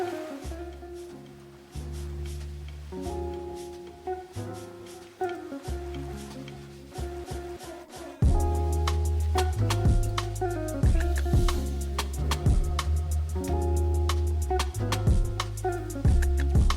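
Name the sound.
background music track from Epidemic Sound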